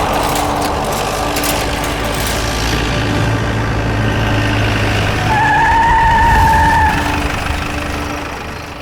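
A car on a road brakes to a stop: a loud, close engine and tyre rumble that builds, then a high tyre squeal for about two seconds before it fades, with no talk.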